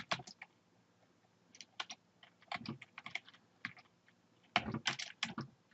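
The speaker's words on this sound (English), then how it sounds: "So if we just go to Google and type in PorterBots." Typing on a computer keyboard, irregular bursts of quick close clicks separated by short pauses, alone and fairly quiet.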